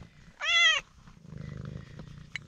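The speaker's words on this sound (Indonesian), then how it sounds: "Di gunung kok ada kucing" A cat on a mountainside near Gunung Prau, Dieng, gives one clear, close meow, then a low, rhythmic purr continues softly, with a small sharp tap near the end.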